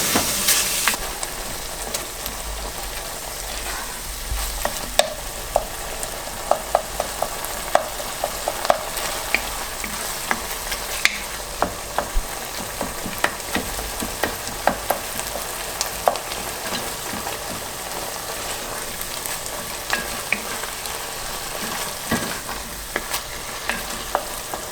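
Shkodra stew, an old Albanian dish, sizzles as it fries in a pan, with a steady frying hiss and repeated scraping clicks from nonstop stirring.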